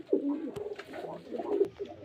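Pigeons at a pigeon seller's home in Beldanga Uttarpara give soft, close coos in two rolling bursts, low and gentle, with no talking over them.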